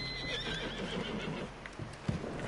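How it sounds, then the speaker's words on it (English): A horse in Red Dead Redemption 2 whinnies amid a dense, noisy game soundscape, with faint hoof clip-clops scattered through the moment. "Let's calm the horse down."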